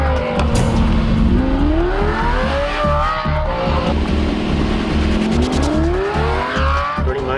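A 2006 Lamborghini Gallardo E-Gear with a Tubi exhaust accelerates hard through rising gear pulls, its engine note climbing, dropping at each shift and climbing again, loud and close with some tire noise.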